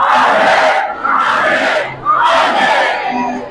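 A church congregation shouts Amen loudly in three big, close bursts of massed voices. Each shout swells and then fades before the next one rises.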